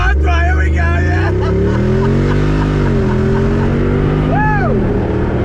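A 2021 Jeep Wrangler Rubicon 392 with its Hemi V8 pulls hard from a dead stop, the engine roaring loudly and climbing steadily in pitch close by, while occupants shout and cheer over it.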